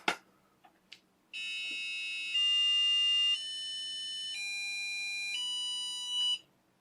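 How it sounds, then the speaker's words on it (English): Piezo buzzer driven by a Raspberry Pi Pico running CircuitPython plays a run of steady electronic tones that step between pitches over about five seconds, after a few faint clicks at the start. The tones are close and clear, with no speech. "I use CircuitPython to control a piezo speaker with the Raspberry Pi Pico"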